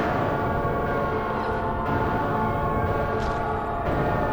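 A train rumbles steadily through the whole stretch in Silent Hill 3, a dense continuous roar with faint metallic rattling and no speech.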